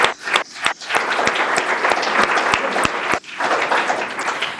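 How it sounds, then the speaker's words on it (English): Loud audience applause at a scholarly publishing conference, with sharp close claps standing out over the dense clapping of the crowd and a brief dip partway through. "Please join me in applauding them."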